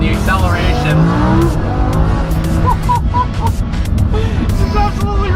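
A Lamborghini Huracan accelerates hard with rapid downshifts, engine notes rising and snapping between gears with sharp crackles and pops, loud and close, while a voice talks over it.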